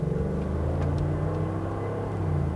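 A 2018 Mercedes-Benz G550's engine drones steadily while driving, a continuous low rumble with road noise that stays even and fairly loud throughout.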